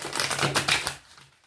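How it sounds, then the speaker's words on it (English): Brisk riffling of a new, large, slippery tarot deck being shuffled, a dense papery flutter of cards lasting about a second before trailing off into quiet, close to the ear with no talking. "I'm going to shuffle one more time."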